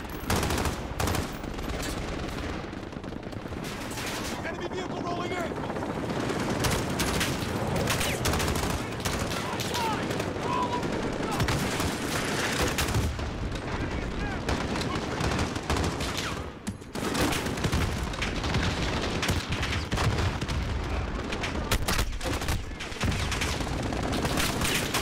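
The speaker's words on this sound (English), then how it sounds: "Where are they shooting from?" Gunfire in Call of Duty Modern Warfare Warzone: dense, nonstop automatic fire and overlapping shots with booming impacts, loud and close throughout, with occasional talk buried in the din.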